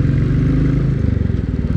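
A Royal Enfield Classic 350 motorcycle riding through a city, its loud, close single-cylinder thump settling into a rapid, pulsing idle-like beat, with no talk over it.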